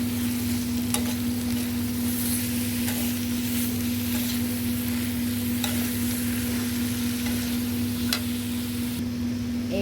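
Masala fries in a pan on a rainy night, giving a steady, continuous sizzle with an even hum underneath and occasional faint clicks of stirring.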